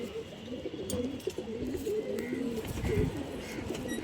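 Pigeons from the Mokimbazar club coo continuously nearby in a loft, a dense, rolling low burble with soft rhythmic pulses and a few faint clicks in the background.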